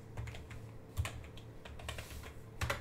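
Quick keystrokes on a computer keyboard, quiet and close, come in an uneven run of light clicks with a couple of heavier taps, and nothing else is heard.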